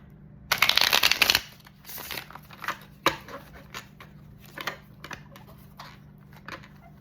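A deck of tarot cards is riffled, a dense crisp burst of flapping, followed by several lighter taps and short shuffles in a quiet room.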